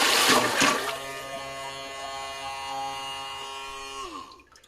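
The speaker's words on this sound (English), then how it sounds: "the pump's going to keep running until there's no more water that it can pump" A small SEAFLO electric water pump whines steadily with a watery gurgle at first, then its motor pitch drops and winds down as it runs dry and stops near the end.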